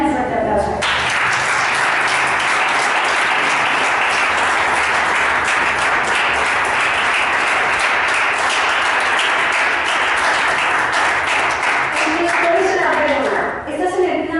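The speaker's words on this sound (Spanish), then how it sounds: "Dale un fuerte aplauso" A church congregation at a Sunday school class breaks into loud, sustained applause, a dense clapping roar lasting over ten seconds with voices shouting and cheering through it before it fades.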